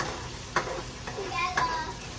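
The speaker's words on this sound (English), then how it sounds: "While it's frying, I stir in between so that it doesn't stick" Tomato sizzles in a pot with a soft steady frying hiss while a spoon scrapes and stirs a few times, close by.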